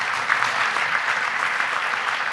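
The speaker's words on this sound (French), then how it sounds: "Je vous demande d'applaudir Luc Ferry." Audience applause welcoming Luc Ferry, former minister, writer and philosopher, onto a round-table stage: dense, steady clapping from a large crowd, close and even throughout.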